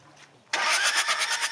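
A car engine flooded with water at a Madagascar gold-mining site is cranked with the ignition, bursting in loudly after a quiet half second and then churning in a rapid, pulsing rhythm.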